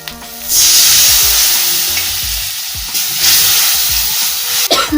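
Water poured into a pan of spiced potatoes frying, with a loud burst of sizzle and steam. Stirring and scraping go on close by throughout, with no talking.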